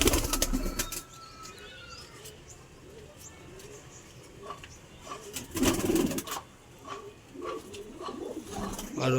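Pigeons coo and flap their wings inside a loft that keeps single birds and breeding pairs. Soft calls and wingbeats are scattered through the clip, with some background noise.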